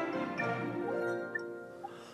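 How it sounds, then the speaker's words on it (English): An Xpeng G9 SUV's electronic sport mode chime plays, a few soft tonal pings over a low engine hum, fading slightly toward the end. "That's the new sound of the sport mode we just changed."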